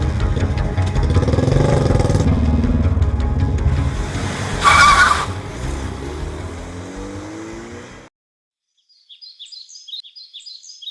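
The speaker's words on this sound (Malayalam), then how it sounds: "വേഗം വണ്ടി എടുക്കടാ" A car speeds away with tires skidding, giving a loud, sustained engine roar and a sharp squeal burst in the middle. The sound cuts off abruptly and is followed by faint bird chirps.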